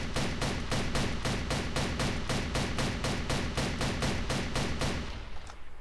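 SPR rifle in the game Darkest Days fired in a fast, even string of roughly eighteen sharp shots with no gaps, loud and close, ending with a short fading tail.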